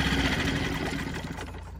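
A Nissan 4-stroke outboard motor on a Hunter 19-2 sailboat runs close and loud, a steady rough churning drone with a low throb that eases off slightly toward the end.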